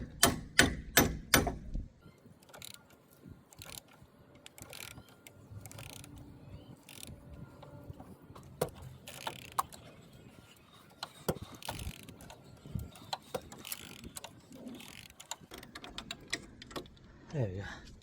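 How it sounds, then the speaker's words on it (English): Metal bar tapping on a suspension bolt while removing a strut top nut on a Ford Fiesta Mk7, giving a loud burst of sharp metallic strikes at the start, then scattered lighter knocks and clicks through the rest. "we're going to use this bar instead to lock the bolt from spinning. Let me just tap a bit."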